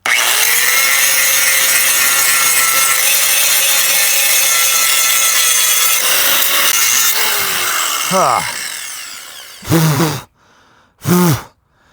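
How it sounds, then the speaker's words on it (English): A grinder bites into rusty truck metal with a loud, continuous high whine and rasp for about eight seconds, then winds down, followed by two short, sharp bursts of grinding. Close and dominant, with no speech. "Okay, so now we'll grind that."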